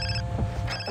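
A phone rings in Far Cry 3 on Xbox 360, a steady electronic ringtone sounding on its own and swelling toward the end.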